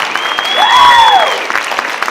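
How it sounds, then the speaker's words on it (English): Crowd applause for award winners at a legacy awards event, a steady clapping wash overlaid by a sweeping electronic or feedback-like tone. "Let's give a big round of applause to our 2017 Legacy Award winners"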